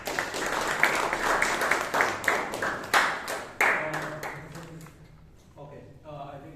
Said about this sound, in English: let us give another big round of applause to all the judges that are here